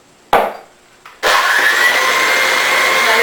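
An electric mixer starts up in pumpkin bread batter with flour, after a couple of short bumps and clatters, then settles into a steady loud whirring drone.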